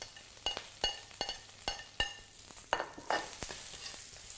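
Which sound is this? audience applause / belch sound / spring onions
spring onions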